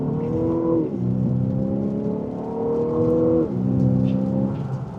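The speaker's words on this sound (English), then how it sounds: "And with a decent acceleration, we're up to speed." A 2027 Infiniti QX65 Autograph accelerates in sport mode and second gear. The engine note climbs steadily, with pitch drops at two quick gear changes, heard loud and close from inside.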